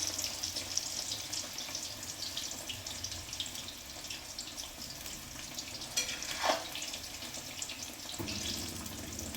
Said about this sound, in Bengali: আস্তে আস্তে ভেজে ভেজে তুলি, কারণ প্রচণ্ড সেদ্ধ হয়ে গেছে তো আলুগুলো।